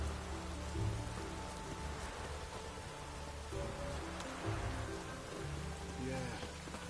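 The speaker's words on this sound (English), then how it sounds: "Looks like rain." Steady, dense rain patters without a break, with a faint tonal hum running underneath.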